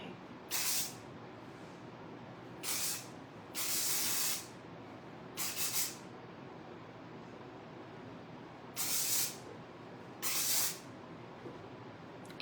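Hairspray hisses from an aerosol can onto hair in six short bursts, each about a second long, separated by quiet pauses, close and clear.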